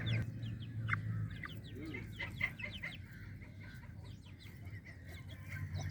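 Chickens cluck steadily around a feeding spot where fly larvae are raised as chick feed, with repeated short calls over a continuous low farmyard rumble and no talking.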